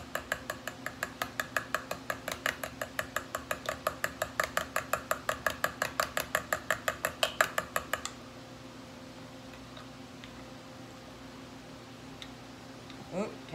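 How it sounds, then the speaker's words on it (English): Yeast roll ingredients being stirred in a bowl, a rapid regular clicking and tapping of a utensil against the bowl for about eight seconds, then near quiet with a faint clink at the end. "So now, get this all stirred up in there."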